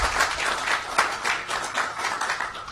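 Audience at a county committee meeting applauding, a dense, steady patter of many hands clapping at moderate loudness with no talk over it.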